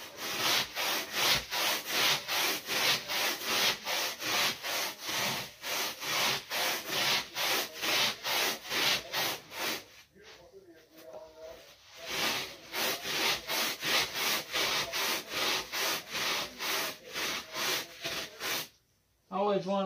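A brush scrubs a car's floor carpet in fast, steady back-and-forth strokes, a loud close rasping rhythm that pauses briefly twice before resuming.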